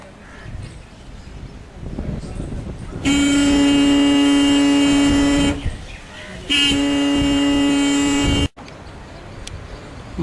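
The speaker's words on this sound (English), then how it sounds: "the horn is on" A wirelessly controlled van sounds its horn in two long, loud sustained blasts of about two and three seconds, separated by a short gap, with a rumbling outdoor background and faint voices around.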